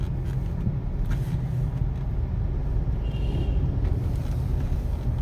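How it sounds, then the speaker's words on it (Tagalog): Heavy road traffic on EDSA, heard as a steady, dense low rumble of idling and slow-moving engines from inside a vehicle, with a brief faint high tone partway through and no speech. "Heavy traffic."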